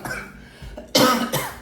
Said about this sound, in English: there's still a little bit of coughing left